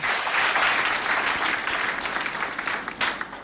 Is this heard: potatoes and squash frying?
no